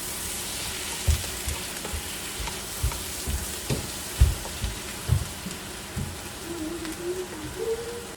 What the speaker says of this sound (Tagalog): Gigisahin ko lang yan guys hanggang sa medyo lalabas yung katas ng kamatis